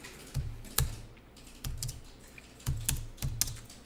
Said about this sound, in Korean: 엔터 세 번 쳐서 이거 하시는 거 아시죠?